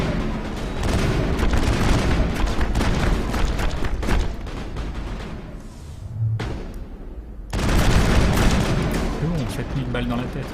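Gunfire in Mass Effect, dense bursts of rapid shots and booming impacts filling most of the stretch, with a short lull before the firing resumes loudly, under game dialogue.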